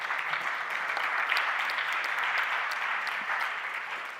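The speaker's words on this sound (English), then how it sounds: "Give a round of applause to yourself and to the audience." Steady applause from a conference audience at Slovanský dům closing the first conference day, sustained and even throughout with no voices standing out.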